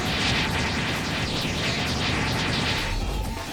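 The Relentless Dough Barrage ability of the Dough fruit in a video game unleashes a dense, continuous roar of rapid punching bursts and booming impacts, loud and sustained before tapering off at the end.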